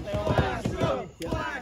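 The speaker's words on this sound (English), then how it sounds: "The crowd is going crazy over BLAXSTROM." A wrestling crowd at a GTS Wrestling event roars and chants in loud, rhythmic surges, with a brief drop before the cheering swells again.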